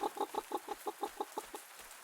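Chickens cluck in a quick, steady series of about a dozen short calls in a farming video game, fairly close and clear with no talking over them.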